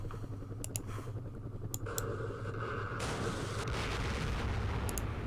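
Gunfire at a platoon in the Campaign Series Vietnam war game, a continuous rattle of rapid shots and distant booms, with a few sharp mouse clicks early on.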